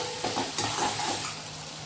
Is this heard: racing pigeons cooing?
no